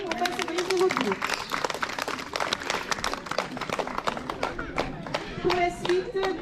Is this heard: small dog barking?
no